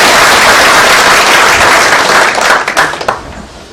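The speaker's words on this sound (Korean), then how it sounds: "다시 한번 큰 박수 한번 해주시기 바랍니다." Loud, sustained applause from a church congregation after a soprano choir performance, many hands clapping close by before tapering off over the last second.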